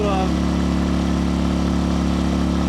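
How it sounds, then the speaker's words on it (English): A generator strains under the heavy load of charging a Bulletti AP180P power station in turbo mode, giving a loud, steady, close engine drone with a constant low hum and no break throughout. "you can clearly hear that this is struggling, but it can handle 1500 watts"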